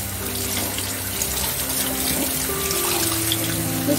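Water runs steadily and loudly from a tap into a sink while gray mullet fish is washed, a continuous close splashing rush with no talk.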